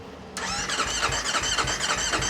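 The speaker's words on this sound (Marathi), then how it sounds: "अरे हिच्या सायलेन्सरच्या आवाजाने ही बघा खाली माती निघली." A high-performance engine fitted with an Akrapovič exhaust fires up abruptly after a brief quiet, then settles into a loud, close, throbbing idle with a rapid pulsing rumble and no talking.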